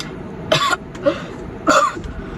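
Three quick coughs in a row, close and clear, with short pauses between them against a quiet background.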